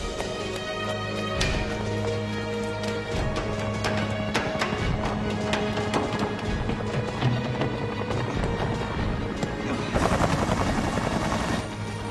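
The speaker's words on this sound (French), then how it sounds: "L'hélicoptère." Helicopter rotor noise thudding continuously under dense, chaotic action sounds, with sharp impacts scattered throughout and a burst of loud hiss near the end.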